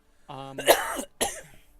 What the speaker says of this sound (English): I just coughed and said, excuse me